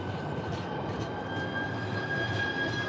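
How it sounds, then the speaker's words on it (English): A two-car train rumbles past in a broad steady roar with a thin sustained high whine over it, moderately loud and unbroken for the whole span, with no talk. "it's a two-car train. It's gonna take this one forever to pass."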